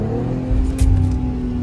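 A Chevrolet Corvette C8 engine hums at a steady, fairly loud pitch, briefly swelling in a short rev midway before settling back, heard from inside the car with no talking.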